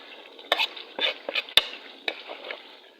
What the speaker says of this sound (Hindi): अब ये सारे ड्राई मसाले भी मैंने डाल दिए इसके साथ ही, और इनको मिक्स कर लेते हैं।